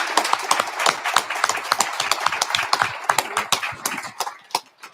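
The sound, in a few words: audience applause at end of a speaker series talk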